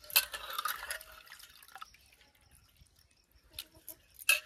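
Freshly washed clams drain in a kitchen as water trickles off them, with a few crisp close drips at the start and end and quieter dribbling in between.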